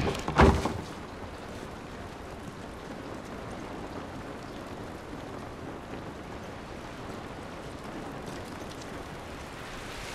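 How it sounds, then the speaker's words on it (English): Steady rain in the video game The Last of Us, a soft continuous hiss of rainfall heard alone after a brief thump at the start. "This rain ain't gonna do us any good."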